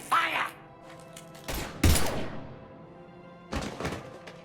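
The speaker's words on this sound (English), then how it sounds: "Now open fire!" Gunfire in the Mass Effect 3 video game: several loud, abrupt thumping shots in quick bursts, with silent gaps between them and no talk heard.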